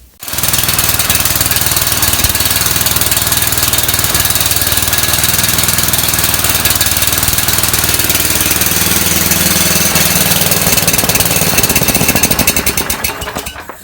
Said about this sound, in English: Put a brand new plug into it and change the oil, and I'll get a video of it firing up.